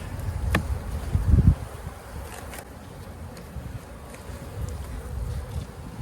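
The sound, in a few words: honey bees buzzing at hive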